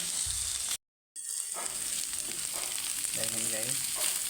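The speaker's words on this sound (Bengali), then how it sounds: "আর একটু ভাজা ভাজা হয়ে গেলে নামিয়ে নেব।" Bitter gourd (karela) sliced and frying in oil in a pan, a steady loud sizzle throughout, broken once by a brief silent gap, with faint stirring scrapes near the end.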